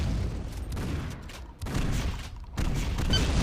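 Shotgun fire in a Painkiller video game duel, several booming blasts with sharp onsets among steady game noise, fairly close and punchy.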